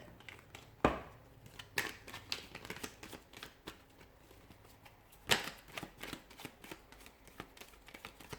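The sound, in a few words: shuffling tarot cards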